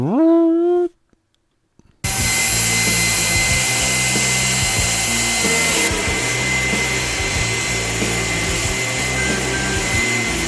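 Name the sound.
jet turbine engine running at high RPM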